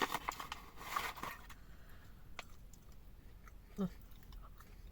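Sweet potato fries crunch during chewing close to the mic, with irregular bites that are loudest at the start and ease into softer munching.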